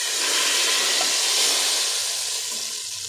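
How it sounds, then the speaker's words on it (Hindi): Hot tadka tempering is poured onto cooked moong dal, giving a loud, sudden sizzling hiss that fades gradually over a few seconds with no talking. "तो अब ये हम इसमें तड़का डालने लगे हैं"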